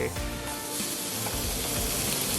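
Carrots being stir-fried in a reused wok while making japchae, a steady loud sizzle with stirring scrapes running throughout, close and continuous with no talk.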